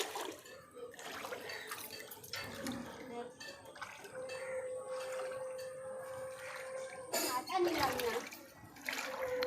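Floodwater that has come inside a house, sloshing and splashing with watery drips and trickles throughout, fairly close, under a person talking excitedly.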